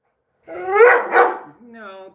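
A dog lets out two close, loud barks in quick succession, then a softer whining yip trailing after, heard indoors.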